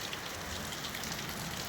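Monsoon rain falls steadily during the Shravan season, a faint, even hiss of drops on surfaces with no talking over it.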